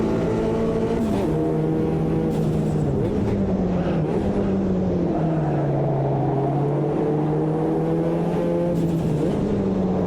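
A race car engine in Automobilista 2 on a tight, twisty Brazilian track whines loudly and steadily, rising and dipping in pitch through gear shifts and slow corners, with no voice over it.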